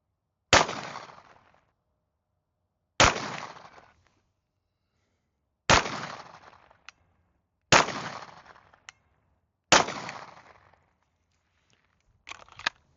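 Rifle shots fired outdoors at a target while testing an OSight XR sight, five loud sharp reports spaced a couple of seconds apart, each with a short decaying tail, then a fainter final pop.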